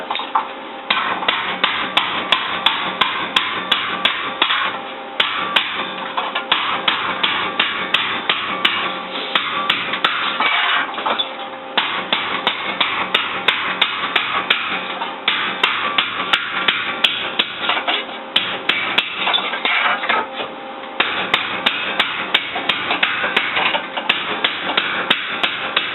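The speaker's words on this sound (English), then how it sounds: "Okay, so I hammered this out" Sheet metal for a handmade motorcycle fender is hammered with rapid, evenly spaced sharp blows, close and loud, over a constant metallic ringing, pausing briefly now and then before resuming.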